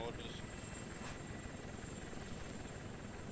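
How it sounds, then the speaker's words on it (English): A helicopter in the military game Arma 3 drones with a steady low rotor thrum throughout, fairly faint under a background of radio-style voices. "Maybe the chopper just landed someone there."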